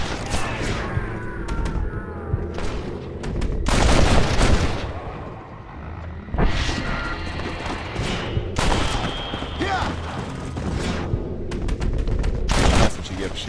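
Gunfire in Red Dead Redemption comes as repeated loud shots and volleys from more than one gun, close and echoing, with voices speaking between the bursts.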